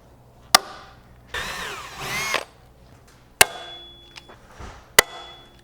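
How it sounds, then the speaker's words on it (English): Pneumatic rivet tool fastening the outer wing strut of an adjustable strutless 15-inch rear wing onto a 1994-98 SN95 Mustang: three sharp loud bangs spread apart, with bursts of tool whirring and handling noise between them. "We're going to go ahead and rivet it in place."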